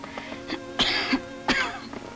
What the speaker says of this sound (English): And this cough.